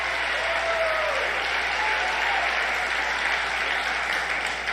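A crowd at a political rally applauds steadily, a broad, even wash of clapping that holds throughout without letting up, with a brief cheer or whistle near the start.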